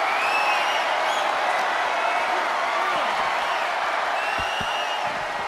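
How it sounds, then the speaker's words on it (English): Arena crowd roaring and cheering in the WWE 2K23 wrestling video game during a Friday Night SmackDown match, a steady, loud wash of distant voices and applause that continues throughout. "Just listen to the crowd roar."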